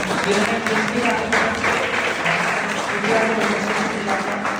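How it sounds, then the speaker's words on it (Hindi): A college audience at a CPR and basic life support demonstration by engineering students applauds, a steady dense wash of clapping that holds evenly for several seconds, with some voices mixed in. "तो एक बार इनके लिए जोरदार ताली होनी चाहिए"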